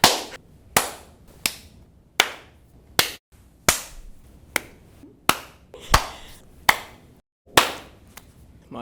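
Sharp, isolated hand claps, about a dozen spaced roughly evenly apart with brief gaps of quiet between them, close and crisp, no talking.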